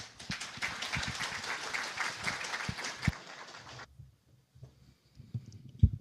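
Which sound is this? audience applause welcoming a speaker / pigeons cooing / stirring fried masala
audience applause welcoming a speaker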